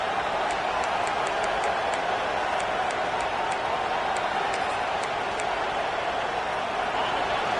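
Stadium crowd in the college football video game NCAA 26 on a third down, a dense steady roar of many voices at constant loudness with faint sharp whistles or shouts poking out above it.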